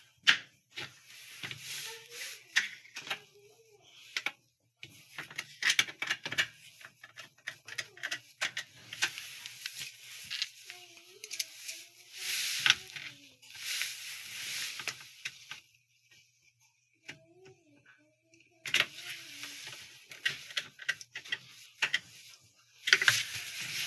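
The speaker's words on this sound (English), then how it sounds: "We will reinstall our motor guard." A motor guard being refitted and its screws turned back in, sparse faint clicks, ticks and small ratcheting taps in irregular clusters separated by quiet gaps, with a light whirring tone now and then.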